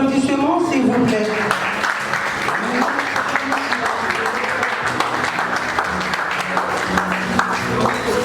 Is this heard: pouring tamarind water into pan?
no